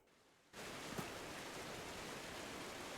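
Steady broadband wind noise fills the Silverrun Forest map in Farming Simulator 22, switching on abruptly after a near-silent half second and then holding constant and rain-like, with no one speaking.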